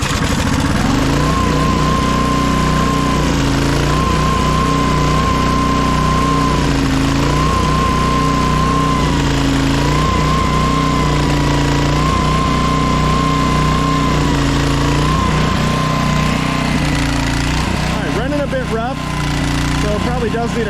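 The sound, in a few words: late 90s Honda Harmony lawn mower engine starting and running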